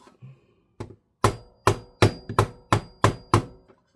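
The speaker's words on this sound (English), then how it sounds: "Hammer it." Sharp metallic taps from a small hammer bending tiny metal pins on a Siemens VDO BMW engine computer cover, about eight quick strikes in a steady rhythm after a couple of softer knocks, close and fairly loud.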